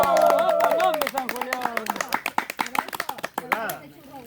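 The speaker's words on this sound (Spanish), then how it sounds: "¡Aplauso!" People clap by a campfire in a ragged burst of applause that starts under talk and then stands out as sharp, close, uneven claps before tapering off.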